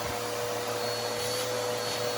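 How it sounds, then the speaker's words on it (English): A vacuum cleaner runs steadily close by, a loud and unbroken whine and rush of air, as it cleans out the fan area of a furnace motor. "now he's vacuuming it out"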